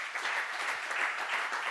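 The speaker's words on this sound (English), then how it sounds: "Big round of applause." A conference audience at a data science talk gives a full, even round of applause, dense, close and continuous from start to finish.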